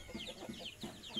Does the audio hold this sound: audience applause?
no